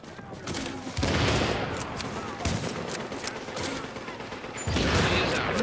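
An SVD sniper rifle fires in The Division amid a busy firefight, with heavy cracks landing every second or so over continuous background gunfire and a voice speaking underneath.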